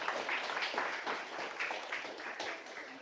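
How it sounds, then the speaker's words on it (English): A group at a karate training camp claps together, a steady patter of hand claps from several people, fairly faint and lasting a few seconds. "All right, clap it up."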